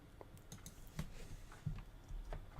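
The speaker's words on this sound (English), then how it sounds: "I'm going to type Finding" Keystrokes on a computer keyboard while typing into a document, a short run of light, irregular clicks with a couple of firmer taps, fairly quiet and close, no talking.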